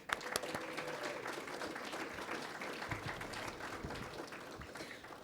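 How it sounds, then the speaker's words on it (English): A crowd at a launch event applauds steadily and fairly faintly from a distance, a dense even wash of clapping with no talking over it. "let's give them all a round of applause"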